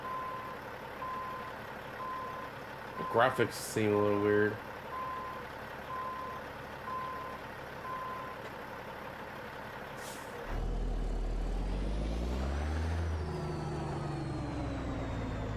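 A truck in a trucking video game: a quiet engine idle under steady reversing beeps, a short air-brake hiss, then the engine revs up loudly and keeps droning, with someone speaking briefly.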